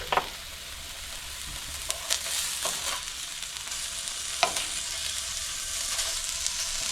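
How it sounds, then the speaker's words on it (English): Two burger patties fry in a pan with a steady, close sizzle and hiss, broken by a few faint clicks and taps, with no talking. "So I'm gonna start by getting 2 of these patties cooked."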